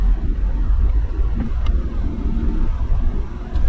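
A Suzuki Jimny JA22 in two-wheel drive rolls off with a low, steady engine rumble that stays close and even, with faint rattles and no talking.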